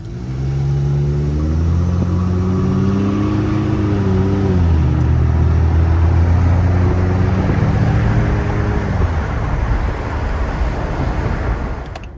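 A Dodge Charger with a modified exhaust driving, a loud deep engine rumble with rising tones as it accelerates through the gears, then settling into a steady cruising roar.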